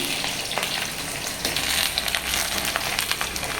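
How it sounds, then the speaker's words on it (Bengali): Potatoes fry in a pan with a steady, dense sizzle and crackle, punctuated by occasional stirring scrapes, close and fairly loud with no talk. "আলুগুলো আগে ভেজে নিই"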